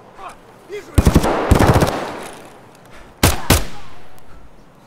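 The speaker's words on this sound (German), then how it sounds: "Jetzt werde ich angeschossen." Sharp bursts of video game gunfire from Escape from Tarkov arrive in short rapid clusters, loud and close, with quieter gaps and faint voices between volleys.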